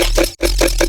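Dubstep bass mids run through a ring mod crunch effect, giving a gritty, fluttering, pulsing tone over a heavy sub, with a brief cut-out in the middle before the buzzing resumes.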